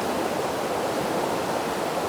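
A waterfall at Chae Son hot spring park in Lampang rushes with a steady, close, dense roar of flowing water, constant and without any voices.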